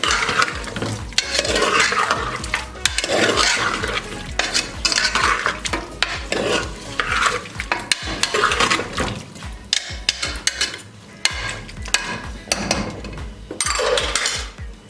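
A spoon stirs chicken and potato curry in a pot, producing loud repeated scraping and wet sloshing strokes with metallic clatter, continuous and close, no talking.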